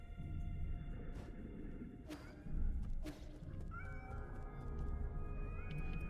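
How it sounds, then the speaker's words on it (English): A cat meows within the Nine Sols video game, a few short calls rising over a steady low in-game ambience, with a couple of sharp thuds in between. "Cat!"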